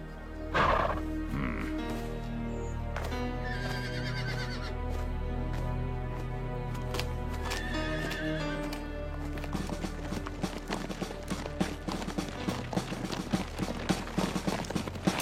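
Horses whinny and snort near the start of a period outdoor scene near Fort Henry, then hooves clop in a quickening, uneven patter that builds toward the end, with no talking.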